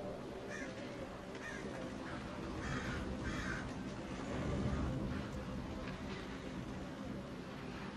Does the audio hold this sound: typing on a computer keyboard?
no